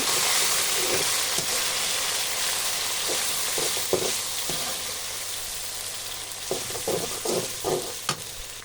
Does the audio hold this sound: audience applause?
no